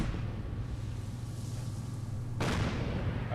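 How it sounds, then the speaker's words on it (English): Artillery fire in the video game Fallout 4: a steady low rumble, then a sudden heavier boom about two-thirds of the way through that lingers to the end. "I have a lot of artillery."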